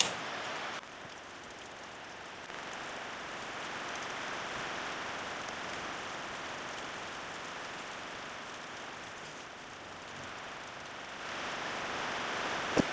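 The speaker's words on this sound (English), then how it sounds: "Look at this rain." Steady rain falls outdoors in a dense, even hiss that holds for the whole stretch, broad and moderately loud with no voices over it.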